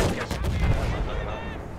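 Machine gun fire in Battlefield 1, rapid close bursts of shots in a loud, dense barrage that trails off slightly toward the end.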